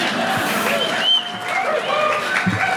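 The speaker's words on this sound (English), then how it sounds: "I didn't even expect to get more applause just for like leaving and coming back." Theater audience applauding and cheering at a live show in St. Paul, a dense steady wash of clapping and crowd noise with a few voices mixed in.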